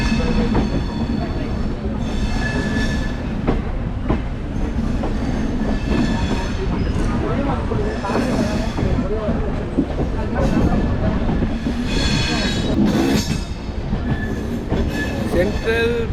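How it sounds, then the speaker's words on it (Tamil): A Chennai–Mangalore Super Fast express train, No. 12685, pulls away with a steady loud rumble, rhythmic clickety-clack of wheels over rail joints and brief squeals, heard continuously from on board. "இப்போது ட்ரெயின் ஸ்டார்ட் ஆகிடுச்சிங்க"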